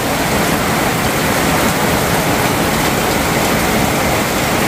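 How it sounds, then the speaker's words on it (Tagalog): Heavy rain pouring down during a storm, a dense, loud, continuous broadband hiss and patter with no breaks, close and steady throughout, no voices. "Lakas ng ulan ngayon dito mga darling."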